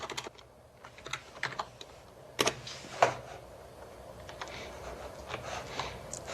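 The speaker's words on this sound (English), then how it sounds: "I'll save myself some typing." Scattered keyboard typing on a computer while naming 3D animation parts, soft irregular keystrokes with a few sharper clacks around two and three seconds, quiet and close, no talk.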